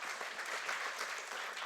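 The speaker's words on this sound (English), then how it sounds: "we round of applause to our guests here" Quiet applause from a conference audience welcoming guests at an Earth observation and AI session, soft and continuous clapping heard from some distance.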